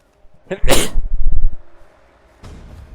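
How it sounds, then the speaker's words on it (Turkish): A single loud, close sneeze from a man gaming, a quick intake followed by an explosive burst, trailing off into low rumbling noise, then quiet background hiss. "Hapşıracağım herhalde."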